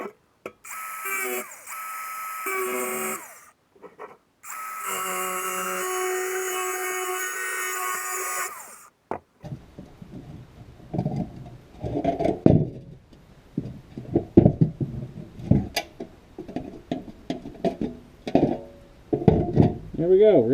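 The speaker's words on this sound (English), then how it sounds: "I'm going to get the grinder with the cutoff wheel and just cut right on this side of it" Angle grinder with a cutoff wheel slicing through spot welds on a car's frame rail, two loud, shrill cutting bursts with a short break between, then scattered knocks and scraping clatter of handling metal.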